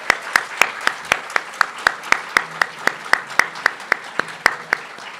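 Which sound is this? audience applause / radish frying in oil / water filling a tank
audience applause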